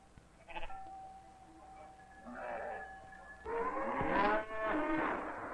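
Cattle mooing on a Norwegian farm in an old 1948 film soundtrack, with long drawn-out lows and some bleating from sheep or goats mixed in, fairly close and loud toward the end.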